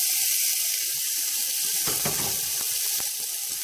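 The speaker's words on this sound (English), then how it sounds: "We're going to throw it in here in the stock pot with some olive oil. Start sauteing it here." Seasoned meat sauteing in olive oil in a stock pot, a loud, dense, continuous sizzle with a few stirring knocks and scrapes partway through, and no voices.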